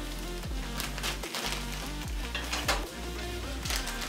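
Ramen noodles go into a pot of boiling water on a stove, with close metallic clatter and knocking of pot and utensils in a busy, continuous kitchen din.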